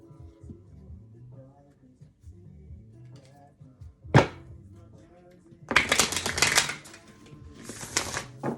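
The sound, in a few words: shuffling tarot cards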